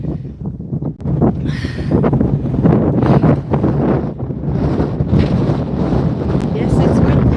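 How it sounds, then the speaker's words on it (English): Strong wind on a hilltop overlooking Wakefield, England, buffets the microphone with a constant low roar and gusty rumble, while a person speaks faintly beneath it. "Yes, it's windy."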